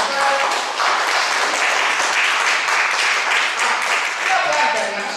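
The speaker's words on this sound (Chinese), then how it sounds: "好，给热烈的掌声。" An audience at a student music recital claps steadily for a young performer. The applause is close, dense and continuous, with a voice briefly audible over it.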